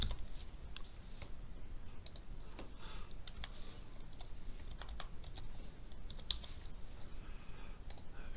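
Quiet typing on a computer keyboard, with soft, irregular key clicks and taps scattered across the whole stretch over a low background hiss.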